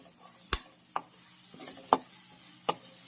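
Spices being stirred into a pan of bitter gourd curry, with four sharp scraping clacks of a spoon against the pan at uneven intervals over a faint, steady background hiss.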